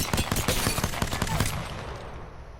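Single-fire P2020 pistol shots in Apex Legends ring out in a rapid string of sharp cracks during the first second and a half, then trail into a fading echo.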